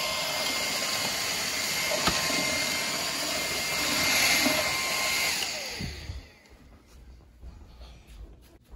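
A handheld vacuum cleaner runs with a steady whirring suction drone and small rattles of debris being pulled in, then powers down and winds off into near quiet.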